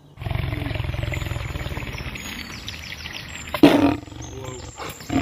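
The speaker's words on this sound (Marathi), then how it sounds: "पिल्लू जोरात डरकाळी फोडते" A tiger cub's loud roar, used as a sound effect, rumbles in a long pulsing growl, followed by a sharp burst and faint bird chirps.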